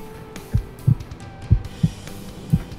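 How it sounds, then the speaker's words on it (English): A human heartbeat picked up through a stethoscope, soft low thumps in a steady lub-dub rhythm, about five beats close and muffled over a faint hum. "that's my heart beating"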